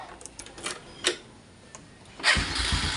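A small motorcycle engine with a misfire coughs and ticks with a few sputtering bursts, then catches and starts running with a rough, uneven idle.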